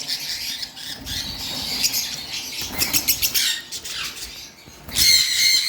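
A red factor canary from a breeding line squawks in short, sharp bursts, with fluttering and scuffling between calls and a louder burst of chirping near the end, close and unaccompanied by voices.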